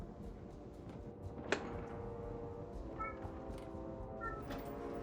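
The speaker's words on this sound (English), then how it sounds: "You can hear my cat." A pet cat meows faintly in the background, giving a couple of brief cries under a steady hum of game audio.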